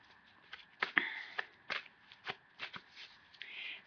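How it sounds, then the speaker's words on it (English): A deck of oracle cards being shuffled by hand, a string of quick, close, crisp riffling snaps and soft slides in an uneven rhythm, fairly quiet with no talk. "as I was shuffling the deck"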